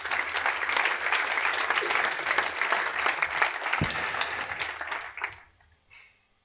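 A church congregation applauds loudly and continuously for several seconds, a dense wash of clapping that fades away toward the end, with a single thump partway through.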